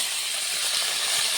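Elephant foot yam frying in hot oil with garlic, a close, steady bright sizzle and hiss without pause.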